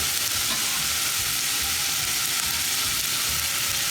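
Finely chopped onion, carrot and celery sizzle steadily in a pan while being stirred for polenta with porcini, a continuous close, loud frying hiss with soft scraping throughout.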